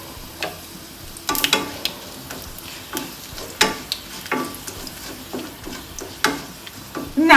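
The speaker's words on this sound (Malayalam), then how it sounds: "എണ്ണയിലോട്ട് ഒരു 1/2 ടീസ്പൂൺ കടുക് ഇട്ട് കൊടുത്തേ. കടുകെല്ലാം ഒന്ന് പൊട്ടിക്കിട്ടട്ടെ." Mustard seeds spluttering in hot oil for a banana blossom egg roast, with scattered sharp pops and crackles over a steady frying hiss, close and moderately loud, growing busier toward the end.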